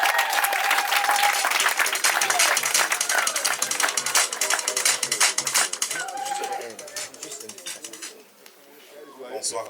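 Guests at a customary Gabonese wedding burst into lively clapping, dense and fast at first, then thinning out toward the end, with voices and cheers mixed into the crowd.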